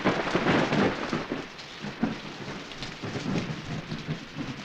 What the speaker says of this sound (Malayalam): ഈ മഴയത്തും മഞ്ഞത്തും രാത്രിയിൽ കുട്ടൻ എവിടെ പോയി കിടക്കും എൻ്റെ ദൈവമേ?